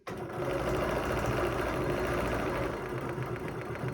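A sewing machine runs steadily for about four seconds, stitching across a quilt, its fast mechanical whir close and continuous with no talking.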